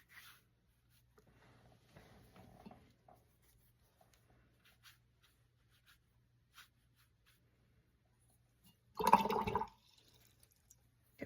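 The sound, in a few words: rinsing a watercolour paintbrush in water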